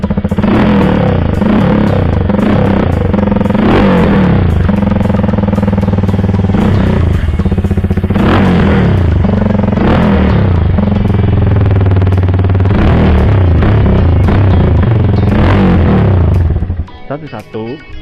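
Benelli Motobi 200 EFI motorcycle engine revved repeatedly in bursts, loud and close, with rising and falling engine tone throughout and a clattery mechanical edge.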